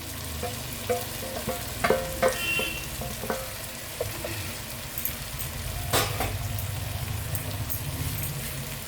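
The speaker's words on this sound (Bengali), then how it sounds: "এর মধ্যে আমি ভেজে রাখা আলু পটলগুলো দিয়ে দিচ্ছি" Fried potatoes and pointed gourd go into hot oil and sizzle steadily, with bursts of spattering, clinks and stirring scrapes in a nearby pan; no one speaks.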